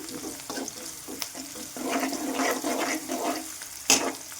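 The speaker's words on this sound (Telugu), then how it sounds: "ఆనియన్ పచ్చిమిర్చి అనేవి మంచిగా వేగిపోయాయి కదా" Onions, green chilies and curry leaves fry in a pan, giving a steady close sizzle with scraping stirs and a sharper clatter near the end, no talking.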